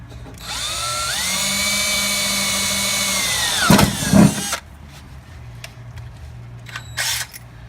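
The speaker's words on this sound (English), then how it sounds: "we're going to do a pilot drill first" A power drill whirs steadily for several seconds drilling a pilot hole in a Polaris XCR 440 snowmobile suspension part, its pitch rising briefly, then bites and stops, leaving a quiet room with light tapping and a short whir near the end.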